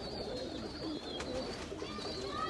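Soft pigeon cooing in a busy background of chirps and ambient noise, steady and moderately faint throughout.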